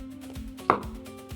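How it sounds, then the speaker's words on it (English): A knife chops through ingredients for mini beef Wellington on a cutting board, giving a few separate chops with one sharp, louder strike in the middle, close and clear with no talking. "So while I'm chopping these up"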